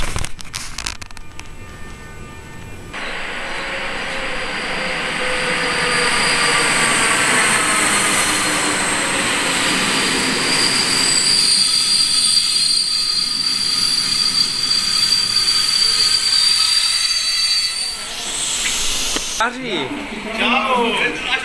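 A train runs along steadily from inside a carriage, its wheels squealing loudly for long stretches over a constant rumble and clatter, before the noise shifts and drops near the end.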